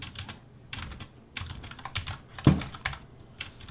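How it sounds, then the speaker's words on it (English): Rapid, uneven clatter of computer keyboard typing placed very close to the mic during Quake Champions team deathmatch play, bursts of keystrokes with one sharper, louder thump partway through, no talking. "If you hear my keyboard"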